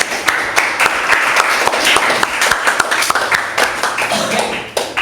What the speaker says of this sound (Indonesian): Beri tepuk tangan untuk teman-teman.